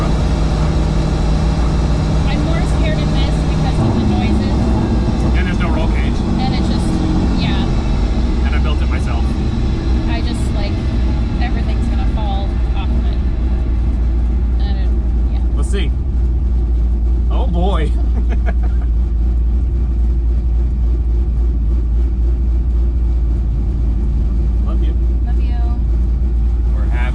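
A supercharged 1967 Chevrolet Nova engine drones loudly and steadily from inside the car, with a rumbling low end and gear noise rising as the throttle lifts; people talk over it throughout.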